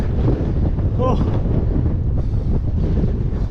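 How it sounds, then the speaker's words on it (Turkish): Strong mountain-road wind buffets the microphone in a constant roaring rush during a bicycle ride near Artvin, Turkey, with a brief voice exclamation partway through. "Bayağı rüzgar var ya."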